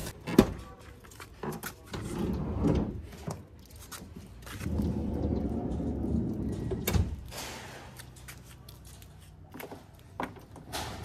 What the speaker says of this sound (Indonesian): Ketika dimatikan, pintu gesernya menjadi manual yang memang berat.